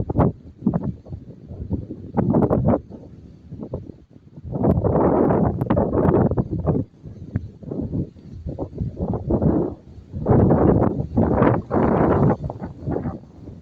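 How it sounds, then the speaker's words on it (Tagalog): Gusty wind buffets the microphone in loud, rumbling bursts that rise and fall outdoors in a forest, with brief lulls between strong gusts. "Mahangin po dito."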